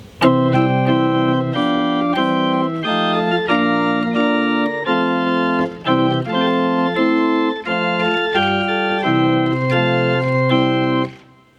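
A hymn sung in slow, stately chords at a majestic tempo, each sustained before moving on, with brief gaps between phrases.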